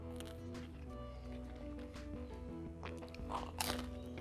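Crunchy chewing of coconut-oil-based vegan cheddar shreds from Made with Plants, heard as soft bites with a sharper crunch near the end, set against steady tonal background music.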